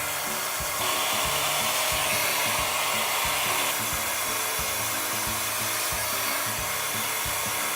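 Hair dryer blowing steadily and loudly at close range while hair is blown out, a continuous airy roar with slight shifts in pitch as it moves through the hair.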